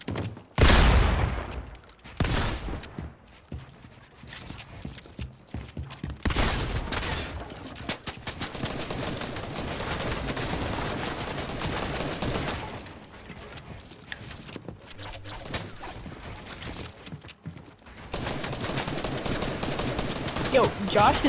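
Fortnite gunfire crackles in rapid bursts and single shots, loud and close, with dense volleys separated by brief lulls; game noise fills the gaps.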